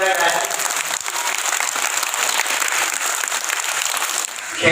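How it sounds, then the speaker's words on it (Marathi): Loud, continuous crowd applause at a welcome ceremony held at Gagangiri Ashram in Manori during a distribution event for children, with voices talking over the clapping throughout. "जोरदार टाळ्या"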